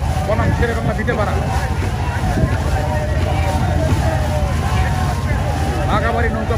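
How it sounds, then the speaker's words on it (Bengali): Bangladeshi river boat race at Baghabari, with a continuous roar of crowd, wind and water, dense and steady, with voices mixed through the noise. "বাঘাবাড়ি নৌকা প্রতিযোগিতা বলা হয় দেশের সর্ববৃহৎ নৌকা প্রতিযোগিতা"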